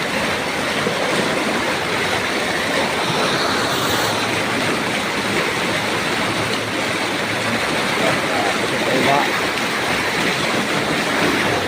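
Strong floodwater rushes past in a dense, continuous roar that stays loud and steady from start to finish, with no voices over it.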